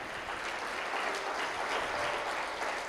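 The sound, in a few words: congregation applause in church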